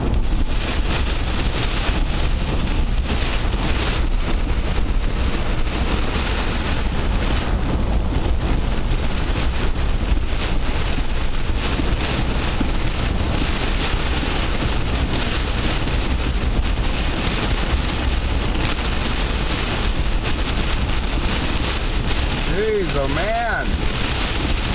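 Heavy, torrential rain drums steadily on a moving car during a downpour, a dense continuous wash of noise throughout, with a voice talking over it.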